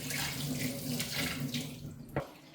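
A spoon is rinsed under a running kitchen tap, water splashing steadily and faintly with a low hum beneath, ending in a brief clink near the end.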